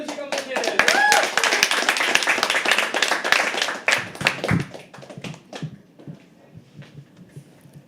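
Audience applause at a live poetry open mic, with dense, rapid clapping that is loud through the first four seconds, then thins into scattered claps and fades, with voices faintly mixed in.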